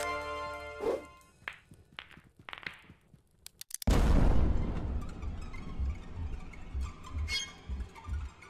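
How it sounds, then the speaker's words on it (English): Flashbang blasts in the video game Kill It With Fire: a sudden loud bang followed by a ringing, noisy wash, preceded by scattered sharp impacts and tonal game sounds. "Oh, flashbangs."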